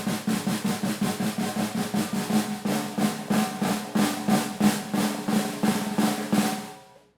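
A snare drum press roll played poorly: about two dozen separate buzzing strokes pulse unevenly instead of blending into a smooth buzz, fairly quiet and close, with no talk, fading out at the end.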